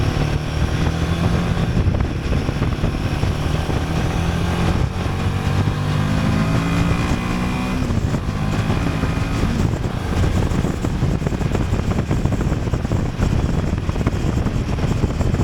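A Royal Enfield Himalayan 450 motorcycle's engine gives a loud, steady roar with rising pitch sweeps as it revs and pulls hard under acceleration, continuous throughout with wind buffeting.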